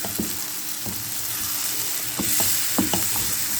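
Goat brain dropped into a pan of well-browned masala, with a steady loud sizzle of frying and a few clicking scrapes of a spoon stirring, close up and with no talk.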